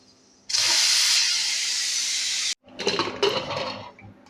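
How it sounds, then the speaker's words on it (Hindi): Steam hisses loudly and steadily from a pressure cooker as its whistle is lifted after cooking lotus stem, cutting off abruptly, then a rougher, sputtering burst of escaping steam follows. "कुकर को हमने नीचे उतार लिया है और अब इसकी सीटी निकाल"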